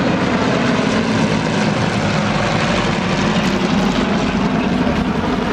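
Junkers Ju 52 tri-motor propeller aircraft at Zwickau, its piston engines producing a loud, continuous droning roar with broadband propeller noise, steady throughout and close.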